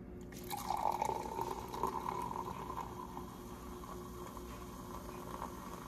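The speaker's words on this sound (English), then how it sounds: "This water is not still." Moving, gently splashing water, a steady low wash with a brief louder burst near the start, fairly faint and with no talking.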